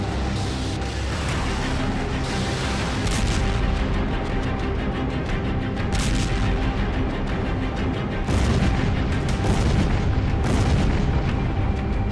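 Twenty-five tons of gunpowder explode in a massive, roaring blast, a long dense rumble with repeated booming surges and crackling debris, loud and sustained throughout.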